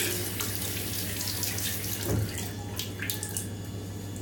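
A tap runs steadily into a sink while a shaving brush is rinsed, a close, continuous splash of water with a few brief sloshes near the end.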